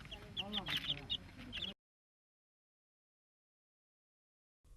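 Chickens clucking in poultry cages on a farm: several sharp clucks and squawks close by over a brief busy moment, then a sudden silence.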